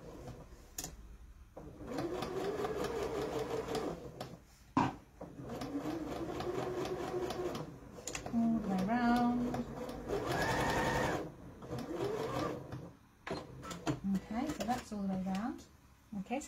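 A sewing machine runs a quarter-inch seam along the top of a stitch-and-flip Christmas stocking, in several bursts of rapid mechanical stitching that stop and start, while a person talks over and between them.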